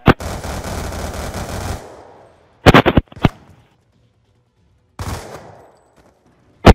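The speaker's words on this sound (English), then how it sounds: "Stop trying to wallbang." Automatic gunfire in Black Ops 2, a long rapid burst followed by short clusters of shots and a final single crack, loud and close, separated by near silence.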